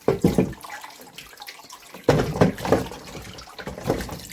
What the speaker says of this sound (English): I'm gonna wash it in a minute, okay? Thorough washing.